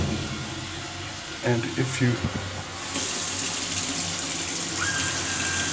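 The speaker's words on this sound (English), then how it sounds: "You can hear all sorts of gyrations and pumping and water flowing." In a communist-era apartment in Tirana, Albania, the building's water pump kicks on and water rushes steadily through the pipes with a broad, constant hiss, while a person speaks briefly.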